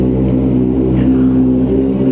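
A Kawasaki ZX-4R motorcycle engine, in neutral, revs loud and close, with a steady droning whine that holds and rises slightly, and no voices over it.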